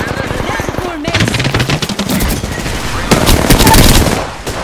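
Automatic gunfire in an Apex Legends match, bursts of rapid shots loud and close, starting about a second in and intensifying near the end, with game voice callouts faintly mixed under the shooting.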